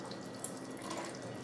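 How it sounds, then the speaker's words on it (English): Water pours into a bottle with a soft, steady trickle and splash, faint and close, with a small clink near the start and no voices. "pour some water"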